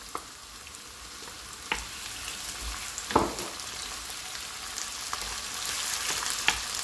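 Tomatoes fry in a hot pan for a gombo dish, a soft steady sizzle broken by a few sharp crackles and pops, with no talking.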